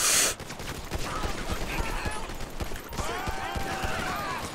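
Gunfire in the police-patrol mod of the game GTA V, a dense rapid fusillade of sharp shots rattling through a busy, noisy scene with faint scattered game sounds beneath.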